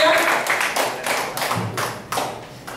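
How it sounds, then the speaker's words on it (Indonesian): Audience applause for a participant at an effective-communication training session, several seconds of hand clapping with a few louder claps, near and fairly loud, with voices mixed in. "Berikan tepuk tangan buat Mas Asep"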